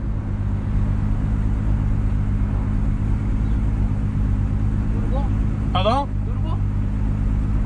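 A VR6 turbocharged six-cylinder car engine drones loud and steady during a street pull at 9.5 psi, with a brief chirping squeal near the end and a short spoken word.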